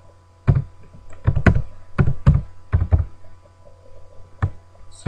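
Keys clatter on a computer keyboard as a data source name is typed, in short irregular clusters of close, crisp taps separated by brief pauses, with no talking.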